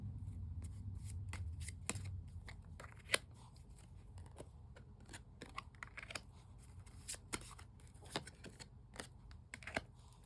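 Tarot cards shuffled and drawn: quiet, close riffling with crisp snaps and taps as cards are pulled and laid down, with no talking.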